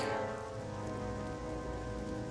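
Steady rain ambience in the Plaguelands of World of Warcraft Classic, a dense even patter of rain on surfaces at constant moderate loudness with no voices.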